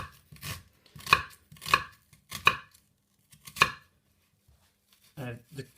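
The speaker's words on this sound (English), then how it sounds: "dice everything nice and small." A knife chops through vegetables on a cutting board while prepping ingredients for chicken liver parfait, with five or six crisp separate strikes spaced about half a second apart, close and clear, then a short pause and a softer rustle at the end.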